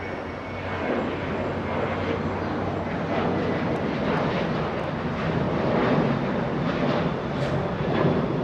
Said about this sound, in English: Little Sky West on taxiway Bravo there.